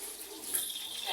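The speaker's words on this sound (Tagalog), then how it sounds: "Lagyan na natin ng mantika mga guys." Cooking oil pours into a pan for Filipino pakbet as a short, continuous liquid stream, soft and close, with a faint voice underneath.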